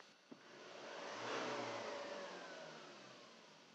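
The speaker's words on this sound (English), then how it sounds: "So I'll just go give the car a rev" A car engine with its stock factory breathing system revs up from idle, climbing to a peak and then easing back down in one smooth, moderately loud rise and fall, heard alone without talk.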